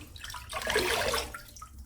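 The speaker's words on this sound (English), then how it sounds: "I'm just going to wet my face." Water splashes as a face is wetted at a bathroom sink before a cold-water wet shave, a loud, close burst of slapping and sloshing that swells and fades within two seconds.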